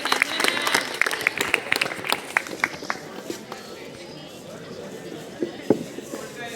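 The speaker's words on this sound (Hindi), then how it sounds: "तालियां बजाते हैं" Applause from a crowd at a Class 12 farewell function at Shafiq Memorial Senior Secondary School. Dense clapping opens the scene, then thins into scattered claps and stray thuds as the noise settles.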